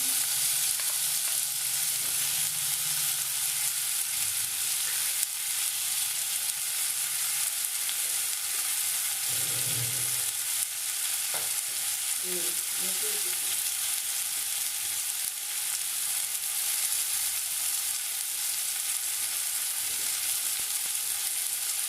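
Chopped garlic frying in a pan for a Malabar prawn curry: a steady, continuous hiss and sizzle with occasional faint stirring clatter, heard close up with no talking.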